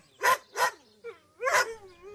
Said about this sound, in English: Pongo and Pedita are going to use their special twilight bark to tell all of the animals to look for Jewel